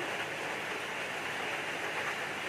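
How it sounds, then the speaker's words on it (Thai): Rain falls steadily as an even, dense hiss with no breaks, loud and close, with no voices over it. "ฝนก็ตกพี่น้อง"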